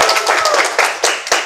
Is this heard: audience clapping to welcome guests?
yes